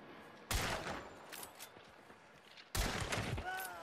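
Two sharp, booming shotgun blasts ring out in the online game Hunt: Showdown, about two seconds apart, each followed by a decaying echo, with faint game ambience between them.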